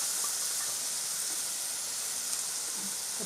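Pureed tomato, ground in a mixer jar, hitting hot oil in a pan while okra thokku cooks, giving a steady, even sizzling hiss with steam that holds from start to finish, with no voices over it.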